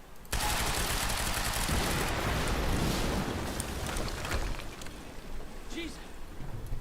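Gunfire and an explosion from the video game Quantum Break burst in suddenly as a loud, dense rattle. It roars steadily for several seconds and then thins out slightly toward the end.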